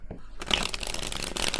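A tarot card deck is shuffled close up, a quick burst of riffling, flicking cards after a brief quiet start, crisp papery texture continuing to the end.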